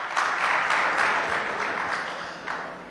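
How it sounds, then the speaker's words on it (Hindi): Loud applause from an audience at a summit in Rajasthan, welcoming a minister on stage; steady, dense clapping sustained throughout with no voices over it. "जोरदार तालियां मंत्री महोदय हमारे बीच में एक बार बजा दीजिए"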